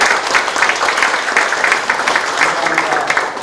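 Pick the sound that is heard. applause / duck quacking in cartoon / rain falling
applause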